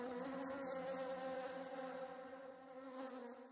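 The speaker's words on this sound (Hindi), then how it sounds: "मधुमक्खियां?" A steady, droning buzz of insects holds close and fairly loud throughout, with a dense harmonic hum that wavers slightly, like a swarm of bees.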